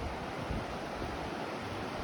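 Steady, broadband rushing of a river flowing beneath the Tacoa River suspension bridge on a forest trail, continuous and fairly faint with no other sounds.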